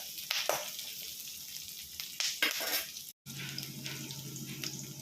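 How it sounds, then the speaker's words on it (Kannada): Garlic frying in a pan for a special horseradish (mullangi) chutney, a steady sizzle with bursts of stirring and scraping throughout, briefly cutting out before the hiss resumes close and moderately loud. "ಬೆಳ್ಳುಳ್ಳಿ ಹಾಕ್ಕೊಳ್ತಾ ಇದ್ದೀನಿ. ಚೆನ್ನಾಗಿ ಫ್ರೈ ಮಾಡ್ಕೊಳ್ಳೋಣ,"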